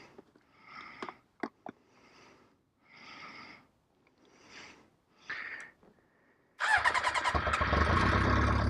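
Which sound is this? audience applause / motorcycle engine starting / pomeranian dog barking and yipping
motorcycle engine starting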